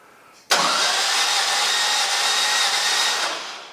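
Volkswagen engine with carburetor on a dyno roaring up abruptly from a quiet start, holding a loud, steady wide-band drone before easing off slightly at the end, with no speech.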